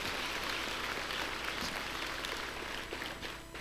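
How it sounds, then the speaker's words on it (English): At a family conference, an audience applauds a violin and piano duo of a girl and her father. The crowd claps in a dense, sustained roar that thins and fades near the end. "Please let's give them a resounding round of applause."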